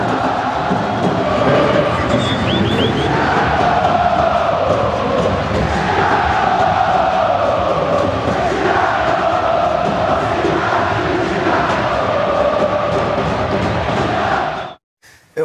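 Botafogo supporters at the Maracanã stadium, a large football crowd, chant and shout in a sustained, loud roar with rising and falling sung phrases, cutting off abruptly at the end.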